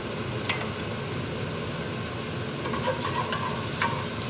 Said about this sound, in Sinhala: දැන් අපි දැම්මා මේ තෙල් එකට දැම්මා දැන් මස්ටර් සීට් අබ සීට් එක එකතු කරගත්තා